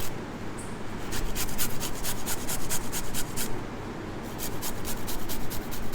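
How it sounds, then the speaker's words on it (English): A small pre-peeled knob of fresh ginger is grated by hand, giving a steady run of close, rhythmic rasping strokes that continue for several seconds with no talk. "All I've got left is a little knob of ginger here. So I'm just going to grate that straight in."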